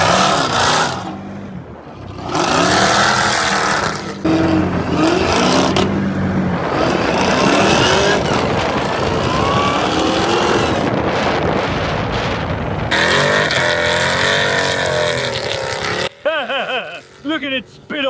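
A 1000 hp Jeep Trackhawk with paddle tires roars across sand dunes, its engine loud and surging in bursts amid heavy wind buffeting, with brief voices near the end.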